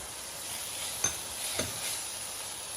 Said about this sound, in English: Add salmon and stir fry gently.